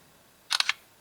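The LG G2 phone camera fires its shutter sound once, a sharp three-part clack that is close and clear, with nothing but faint background hiss around it.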